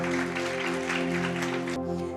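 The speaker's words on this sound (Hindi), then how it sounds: "उनके लिए एक बार हम ताली बजाएं।" A congregation at a Good Friday church service applauds. The clapping is dense, soft and continuous over a steady electronic hum, then cuts off sharply near the end.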